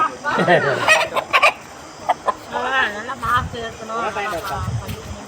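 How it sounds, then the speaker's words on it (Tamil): Chickens cluck and squawk close by as they are untied and caught for a temple offering, a busy flurry of fowl calls with people talking over them. "எங்கள் மாமியார் கோழி பிடிச்சி வரதுக்காக கோழி அவுத்துட்ருக்காங்க"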